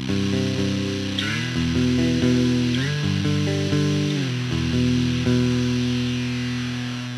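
Electric guitar played through an RPS Effects Bit Reactor bit crusher pedal at its 6-bit setting, giving a loud, continuous, gritty and harshly distorted tone with shifting chords and no voice over it.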